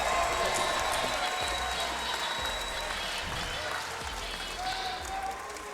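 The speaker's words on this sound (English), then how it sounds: "let's give both of these fighters a big round of applause" Arena crowd at a Shamrock FC mixed martial arts event applauding both fighters before the scorecards, a continuous wash of clapping and crowd noise with some voices mixed in.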